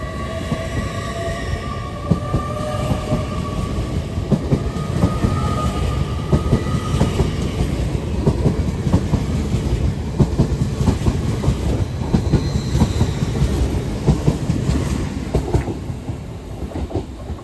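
A train runs through Darlington station, steady loud rumble with rhythmic wheel clatter across the rail joints and a faint wheel squeal, continuous and close throughout.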